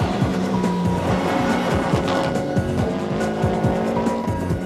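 A left-hand drive rally car with active differentials races at a 1997 event, its engine revving hard and shifting through the gears while the tires squeal and skid, loud and close throughout.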